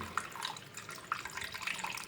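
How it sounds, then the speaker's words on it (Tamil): Water runs and splashes softly into a pot of fish curry masala, quiet and close, with a few small drips and gurgles. "ரெண்டு கப் அளவுக்கு தண்ணி சேர்த்துக்கலாம்."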